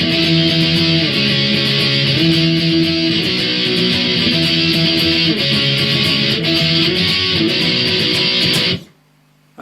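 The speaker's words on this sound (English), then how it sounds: "power chords, okay? And it's just going to sound like this then." Electric guitar power chords in the verse of a song, a loud, distorted strummed riff shifting between chord shapes in steady rhythm, ending abruptly with a faint low hum after.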